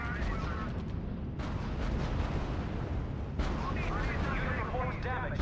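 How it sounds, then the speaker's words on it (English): Anti-tank guns trade fire in R.U.S.E, a steady barrage of heavy booms and rumbling impacts, with a voice talking over parts of the battle noise. "Anti-tank gun combat."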